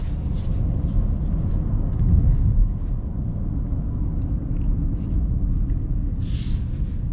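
A 2024 Honda Ridgeline Black Edition pickup pulling away, with a steady low engine drone and road rumble heard from inside the cab at an even, moderate level.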